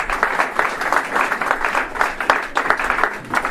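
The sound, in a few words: congregation applauding and acclaiming God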